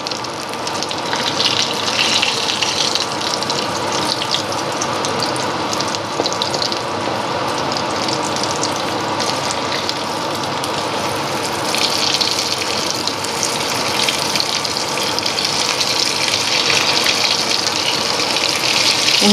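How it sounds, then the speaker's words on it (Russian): Steady, loud sizzling and hissing of potato-filled pirozhki frying in hot oil in a pan, continuous throughout with no voices. "Вот так вот жарятся мои пирожки."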